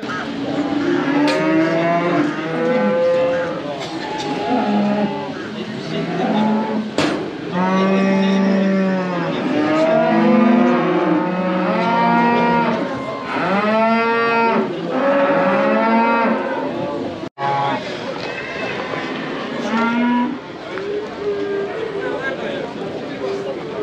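Cattle at a livestock market in Karakol, Kyrgyzstan, moo again and again, loud drawn-out lowing calls from several animals close by and overlapping, with a busy outdoor background throughout.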